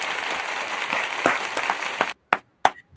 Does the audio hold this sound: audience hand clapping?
yes